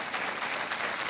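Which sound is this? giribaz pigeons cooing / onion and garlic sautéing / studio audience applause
studio audience applause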